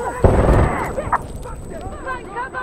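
A grenade explodes in Insurgency Sandstorm, one heavy close boom with a rumbling tail, followed by scattered smaller sounds and voices shouting.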